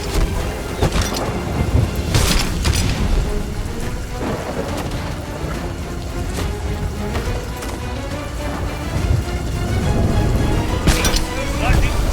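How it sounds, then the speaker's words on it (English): Thunder rolls and cracks over steady heavy rain during a storm at sea in the pirate video game Sea of Thieves, with booming strikes near the start and end and a constant loud downpour throughout. "Lightning strike the spire."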